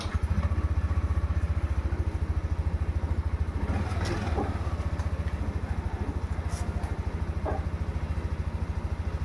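A new-version Yamaha NMAX scooter engine idles nearby with a steady, pulsing mechanical putter, a brief clatter and faint background noises breaking in midway.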